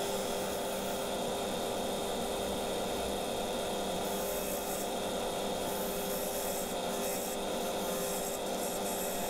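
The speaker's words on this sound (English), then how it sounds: "A bit difficult to get in that recess section there with the bowl gouge." A bowl gouge cuts a sycamore bowl spinning on a wood lathe, giving a steady, close, continuous rasping scrape with no breaks and no voices.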